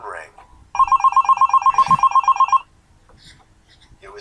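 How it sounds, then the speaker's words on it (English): A telephone bell rings in a fast, trilling burst lasting about two seconds, loud and close, set between stretches of quiet narration. "when the phone rang."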